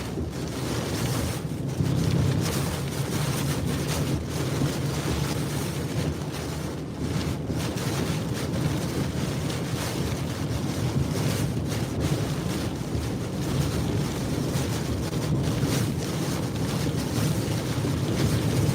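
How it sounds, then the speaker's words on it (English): Strong Hurricane Beryl winds in Texas roaring constantly, a heavy, steady blast with buffeting gusts hitting the microphone and no voices. "These winds are just super wicked."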